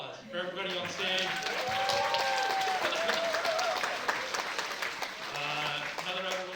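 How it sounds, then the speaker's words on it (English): A film-screening audience at a panel event applauds in a loud, dense wash of clapping that holds for several seconds, with cheering voices and talk mixed in over the top. "another round of applause for everybody on stage."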